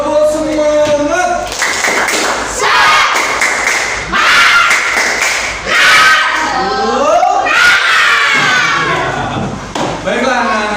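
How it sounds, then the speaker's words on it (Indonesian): A group of children with their teacher in a classroom claps out a rhythmic spirit-clapping routine (tepuk semangat), loud sharp claps in patterned bursts mixed with chanting and shouted voices. "yuk kita tepuk semangat bersama-sama"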